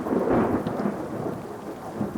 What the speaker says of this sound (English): Thunder and rain marred the hastily forced wedding.